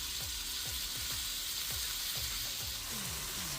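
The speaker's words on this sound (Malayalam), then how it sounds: "സവാള നല്ലപോലെ വഴന്നു വരുന്നവരെ നമുക്കൊന്ന് വെയിറ്റ് ചെയ്യാം." Sliced onions sauté in a hot pan for Malabar mutton dum biryani, giving a constant dense sizzle and crackle with rhythmic stirring scrapes throughout, close and alone with no talk.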